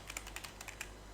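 Code being typed on a computer keyboard: a short, quick run of faint, light key clicks against a low steady background hum.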